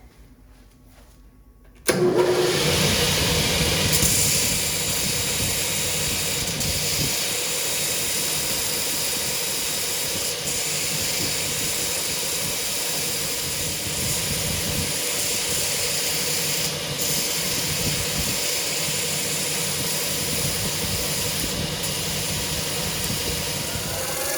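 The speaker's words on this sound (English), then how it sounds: "I had to shorten some of these titanium bolts, and let me tell you, when you grind them, they really light up" Titanium bolts are ground down to shorten them for mounting a Recaro seat in a Porsche 911 996. A loud, continuous grinding roar starts abruptly after a short quiet pause and holds steady to the end.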